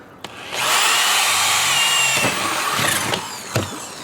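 A power drill bores into a car door that is holding water, whining steadily for about three seconds with a few sharp clicks and knocks around it, close and alone.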